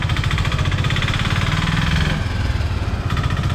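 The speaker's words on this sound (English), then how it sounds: "That's a tuk-tuk. It makes a lot of noise." A tuk-tuk engine runs loud and close in the street, a steady rough low throbbing idle with dense vibration throughout and no speech over it.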